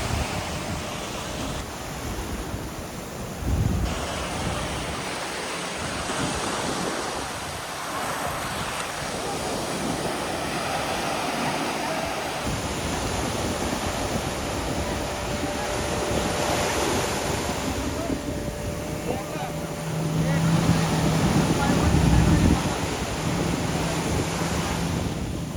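Sea waves wash steadily onto a beach at Malvan under a clear sky, a continuous surf roar with gusty wind noise on the microphone, swelling slightly louder toward the end.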